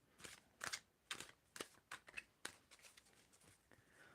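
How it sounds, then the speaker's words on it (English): Tarot cards being shuffled in a quiet room, a series of crisp riffling bursts with short pauses between them, close and soft. "When do I need to stop shuffling here?"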